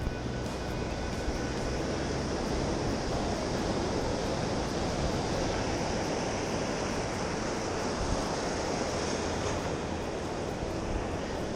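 Ocean waves break on a sandy beach during surf fishing, making a continuous broadband wash of surf that stays loud and steady throughout, with no voices.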